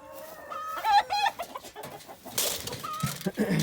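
A nearby Java rooster clucks and calls in short bursts, followed by a noisy rustle and more low clucking, loud and close.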